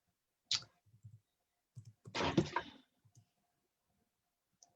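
Small jewelry wire pieces cut for earring dangles: a few crisp snips and clicks close by in a quiet room, with one longer rustling scrape in the middle and a final faint tick.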